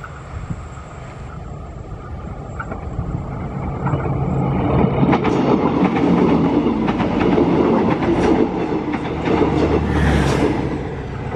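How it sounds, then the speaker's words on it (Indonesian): A Pramex Prambanan Express train passes at high speed on a curve, its rumble and rhythmic wheel clatter swelling loudly from a quieter start and staying close and strong to the end, with no talk. "Kereta api Pramex Prambanan Express sudah melintas di sini."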